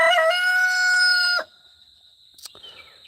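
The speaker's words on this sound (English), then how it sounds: "that rooster is probably annoying some of y'all" A rooster crows loudly and close by in one long harmonic call lasting over a second, then fades into quiet outdoor background with faint birdsong.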